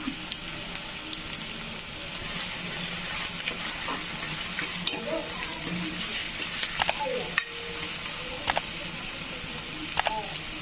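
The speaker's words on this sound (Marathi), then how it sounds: "आता आपण कढई ठेवली आहे त्यामध्ये तेल टाकलं आहे आता आपण त्यामध्ये कांदा टाकूया" Onion frying in oil in a kadai for pav bhaji, a low, soft sizzle running steadily with a few faint clicks and spatters scattered through.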